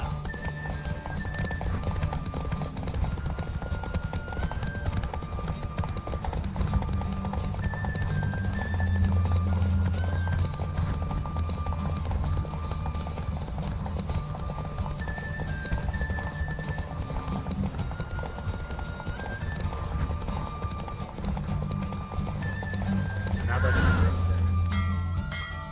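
Hooves clip-clop in a steady, rapid galloping rhythm alongside horse whinnies during a horse race in The Witcher 3, over a continuous backdrop of game music.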